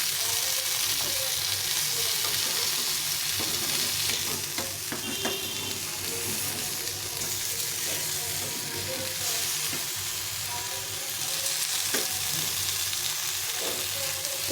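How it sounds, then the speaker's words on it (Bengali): A tiffin snack frying in a pan, turned to cook both sides, giving a continuous close sizzle with occasional stirring scrapes and light clinks throughout. "দুপাশে এইভাবে ভেজে নিতে হবে।"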